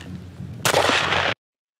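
A single sharp report from a suppressed Bushmaster ACR rifle running on its unsuppressed gas setting, loud and close, cutting off abruptly after a short burst of broadband noise.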